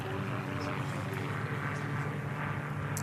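A Formula One racing airplane at the Reno Air Races drones steadily at a distance as a constant propeller-engine hum, with a voice talking over it.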